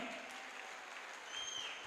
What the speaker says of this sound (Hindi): एक बार धमाकेदार तालियां, जोरदार तालियां